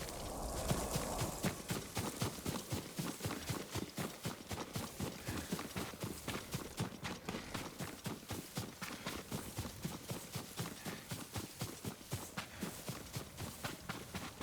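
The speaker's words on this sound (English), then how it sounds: "Yuriko's horse." Yuriko's horse gallops in Ghost of Tsushima, its hooves striking in a fast, steady, even rhythm that continues throughout without any voices.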